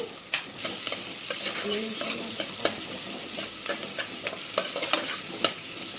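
Onions stirred and frying in a home kitchen pan with a pinch of salt, a steady close sizzle broken by frequent sharp scraping and stirring clicks, no voices.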